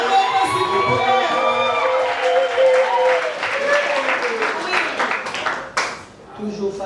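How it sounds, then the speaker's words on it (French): Guests at a wedding ceremony applauding and cheering together, loud clapping mixed with shouts and whoops while an amplified voice speaks over the crowd, the applause thinning toward the end. "On applaudit s'il vous plaît."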